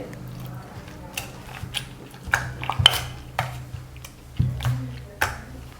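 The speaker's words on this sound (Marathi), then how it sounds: "इथं आपण पपईचा गाभा काढून घेतलेला आहे तो आपण पहिल्यांदा स्मॅश करून घेऊयात" Papaya pulp gets mashed in a metal dish, giving irregular clinks and scrapes of utensil against the vessel, close and fairly loud, with a few sharper knocks and no voices.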